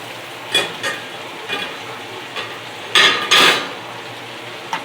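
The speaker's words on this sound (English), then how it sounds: "I want to go ahead and stir that again." Steak and potatoes sautéing in butter in a pan get stirred, with a low sizzle throughout and several scraping, clinking utensil strokes against the pan, two louder ones close together.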